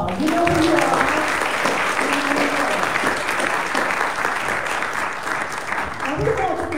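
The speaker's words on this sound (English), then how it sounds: "So let's give them a round of applause." A church congregation at Abiding Faith gives a round of applause, a loud, dense and continuous wash of clapping held for several seconds, with a speaker's voice briefly heard over it at the start and near the end.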